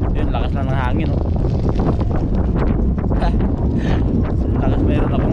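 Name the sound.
strong wind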